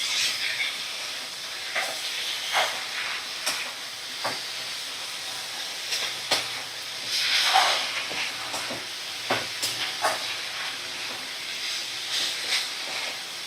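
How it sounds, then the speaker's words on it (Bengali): Dried shrimp with spices stirred in a pan over a medium flame, a soft steady sizzle broken by repeated scraping strokes of the spatula, no talking. "এইভাবে দেখো আমি 3 থেকে 4 মিনিট একদম মিডিয়াম ফ্লেমে রেখেই নাড়াচাড়া করে নিচ্ছি"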